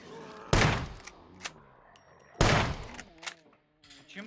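Two sharp, loud shotgun blasts from a quiet-sounding weapon in the SCUM survival game, spaced about two seconds apart, each followed by softer clicks and handling thuds.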